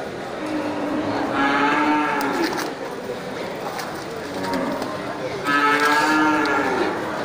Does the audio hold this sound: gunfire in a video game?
no